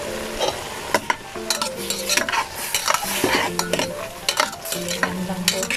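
Zucchini and squid stir-fried with oyster sauce in a pan: a continuous close sizzle broken by frequent clacks and scrapes of a utensil stirring against the metal, with no voices.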